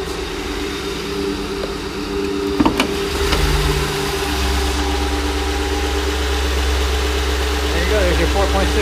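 A 2008 Ford F-150 STX 4x4 with the 4.6 liter engine idles steadily and smoothly under the open hood, a low constant hum with a brief clunk early on.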